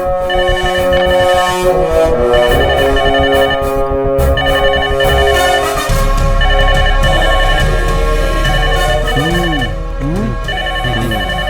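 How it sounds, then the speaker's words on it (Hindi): A telephone ringtone repeats over a busy, loud background of music and other sounds, its tones recurring at steady intervals. "फोन की आवाज सुनाई दे रही है"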